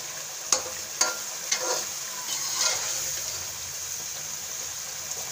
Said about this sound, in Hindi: हम इन टमाटरों को इसी के अंदर चम्मच से तोड़ते जाएंगे ताकि ग्रेवी बन जाए